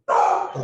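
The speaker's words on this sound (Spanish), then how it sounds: "ese es el perro, lo están calmando." A dog barks indoors at home during a virtual panel discussion, one short loud bark close to the microphone, with a voice speaking at the same time.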